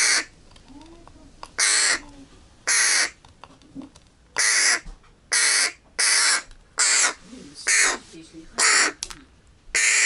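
A young crow chick caws loudly and close, about ten harsh, evenly spaced calls with short quiet gaps between them.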